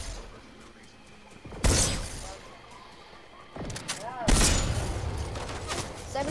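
Gunfire in a shooter video game comes in a few loud, sharp bursts separated by quieter gameplay noise, with players talking over it.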